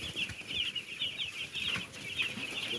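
Chickens at a poultry farm cluck and chatter continuously in a dense, bright flock sound, with occasional wing flaps and scuffling in the background; there is no talk over them.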